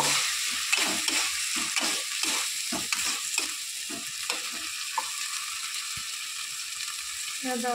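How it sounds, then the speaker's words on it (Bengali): Spices fry in a little oil for a snail dish, a steady hiss broken by repeated rhythmic scrapes of stirring, close and constant. "মশলাগুলো লাল লাল করে ভেজে নেব"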